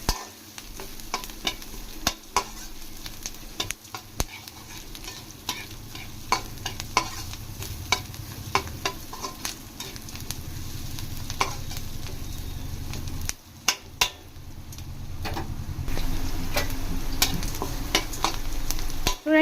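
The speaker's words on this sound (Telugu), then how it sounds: "చూడండి, ఆనియన్ ఈ విధంగా ఫ్రై అయితే మాకు కరెక్ట్గా సరిపోద్ది." Onions frying in a pan for a Telugu hotel-style tomato bath, with steady close sizzling broken by frequent scraping stir strokes for about twenty seconds; no talking.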